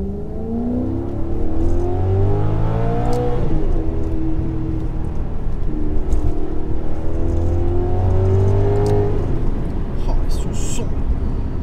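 A grand tourer's naturally aspirated engine in Gran Turismo Sport revs loudly and continuously, its pitch climbing in two long sweeps with a brief drop between, close and dominant throughout.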